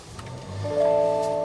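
A Lexus NX350 with a 2.4 liter turbo four-cylinder engine cold-starts, giving a brief starter whirr that rises into a steady, tonal idle hum at close range.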